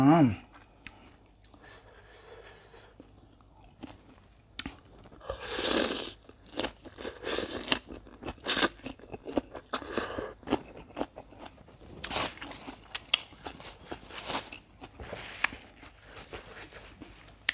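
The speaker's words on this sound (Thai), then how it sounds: "ได้กินผักแบบจุก ๆ เลยค่ะ" Fresh raw vegetables eaten with a crab-paste chili dip crunch loudly near the mouth in repeated bites and chews, irregular bursts separated by short pauses, with some quieter moments early on.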